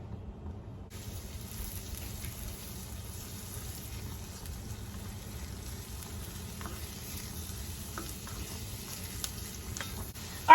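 Chicken meatballs frying in a skillet give a constant, soft sizzle and crackle throughout, with no voices over it.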